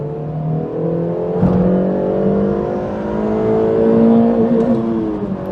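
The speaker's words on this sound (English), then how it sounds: "that's quite a nice noise, I think, for a four-cylinder engine" A 2006 Suzuki Swift Sport's four-cylinder engine revving hard, its pitch climbing steadily through the gears until it bounces off the rev limiter just over 6,500 rpm, loud and close.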